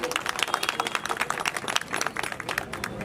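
Dense applause from an audience at a local political gathering, steady crackling claps throughout with no pause.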